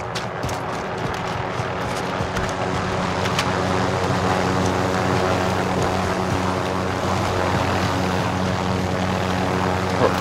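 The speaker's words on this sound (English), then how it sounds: "A helicopter." Helicopter flying in Call of Duty: Modern Warfare, a steady loud rotor and engine drone holding for about ten seconds with no talk over it.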